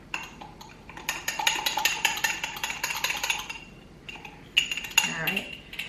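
A utensil stirs a milk mixture in a bowl for homemade vanilla ice cream, with a quick, busy run of metallic clinks and scrapes against the sides, then a short pause and a few louder taps.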